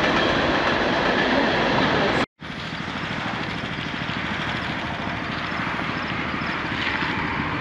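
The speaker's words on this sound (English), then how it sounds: "that's a really noisy train" A loud, noisy train passes close by at the center of Canada, a steady roaring rumble with rhythmic clatter that briefly cuts out before resuming at full strength.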